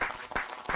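A short burst of audience applause at a family-themed poetry gathering, dense overlapping claps swelling and fading within a moment.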